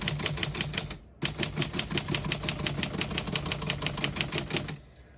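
A 1936 Corona Special Standard typewriter is typed in close-up, giving a rapid, even run of crisp key strikes with a brief pause near the start and a final stop, no voices.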